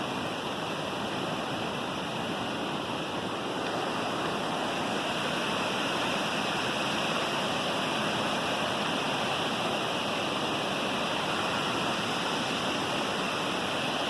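Waterfalls pour into a gorge in the North Georgia mountains, a constant dense roar of falling water that stays steady and fairly distant, with no voices.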